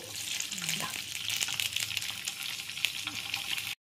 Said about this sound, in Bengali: আর লাল করে ভাজতে হবে, ঠিক আছে? যতটা ভাজবে ততই টেস্ট বাড়বে।